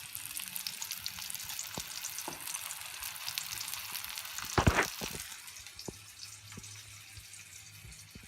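Vanjaram fish pieces frying in hot oil, a steady bright sizzle that swells briefly with a burst of spatter partway through before settling back to a softer crackle.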